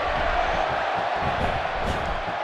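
A sold-out arena crowd in the WWE 2K18 wrestling video game roars and cheers in a dense, steady wall of noise that holds for the whole stretch without a break.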